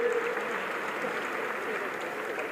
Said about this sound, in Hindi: पूरा मंच सबको प्रणाम करते हुए जोरदार तालियां बजाएं समूचे अतिथियों के लिए